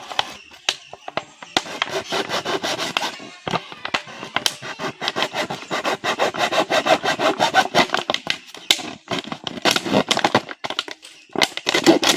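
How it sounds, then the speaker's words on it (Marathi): A plastic bottle is cut up to make a crab trap, giving a close, rapid run of rasping, crackling cuts that stop and start across the whole stretch, with brief pauses between bursts and no voices. "प्रथम ह्या बॉटलला आपण कापून घेणार आहे"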